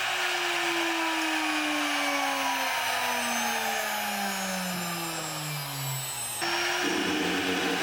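A DMC2 CNC machine keeps running after its tool breaks, giving a steady loud whine with a descending spindle tone and dense high-frequency machining noise, briefly dipping before resuming at an abrupt change near the end.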